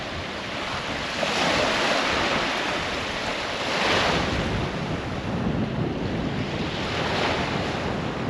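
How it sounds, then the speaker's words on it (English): Ocean waves breaking and washing up on a Mississippi beach at sunset, a steady broadband surf roar that swells in repeated surges, with some wind buffeting the microphone and no voices. "I may not exactly be surfing these waves, but at least, unlike before, you can hear them."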